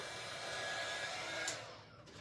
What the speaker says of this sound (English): you can just bring it back to life by taking your heat gun and just softening it